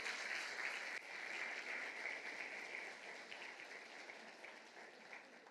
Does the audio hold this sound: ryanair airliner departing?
no